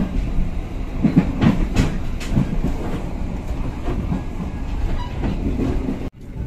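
A KA Siliwangi passenger train runs from Sukabumi toward Gandasoli station, heard from inside as a loud, steady rumble with rattling and clickety-clack rail joints, then a sudden brief dip near the end, with no talk.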